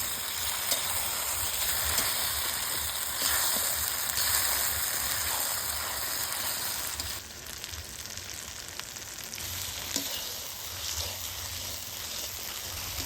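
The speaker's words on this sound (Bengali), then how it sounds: "এবার চুস্তা দেওয়ার পরে কিন্তু খুব ভালোভাবে চুস্তাগুলো কিন্তু কষিয়ে নিব" Mutton chusta sizzles steadily as it is sautéed and stirred in spiced oil, a dense, continuous frying hiss that stays loud throughout, dipping slightly midway.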